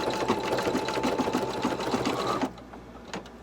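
A Brother Innov'is 1600E embroidery sewing machine stitches an appliqué button design with a fast, steady mechanical whir and rapid needle clatter, close and loud, then cuts off abruptly into quiet room noise.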